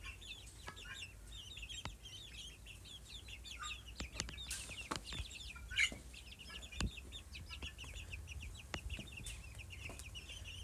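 Small ducklings with adult ducks nearby make a dense, steady chorus of high peeping and chirping, with a few louder calls standing out. No one speaks.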